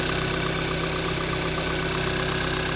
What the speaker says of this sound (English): Engine running nice and strong, great on gas.